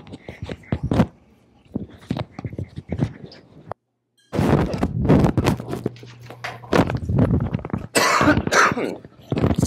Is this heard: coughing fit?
yes